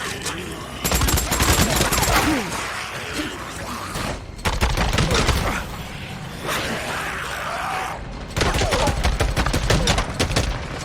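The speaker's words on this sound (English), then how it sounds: "Deacon, dump that drum" A drum-fed gun in the video game Days Gone fires long rapid bursts of automatic shots, loud and close, in three sustained volleys separated by brief pauses.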